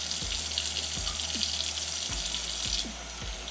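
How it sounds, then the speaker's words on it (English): A kitchen tap runs as hands are washed underneath, a faint steady hiss of water with a few soft low thumps scattered through, and no one speaking. "Wash my hands real good."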